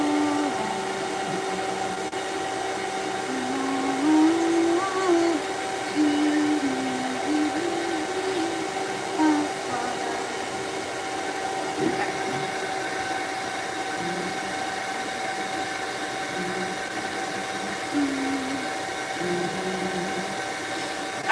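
A pet hair dryer blows out a cat's coat during a grooming session, a steady loud whir with shifting tonal hum as the airflow moves across the fur, with no talking.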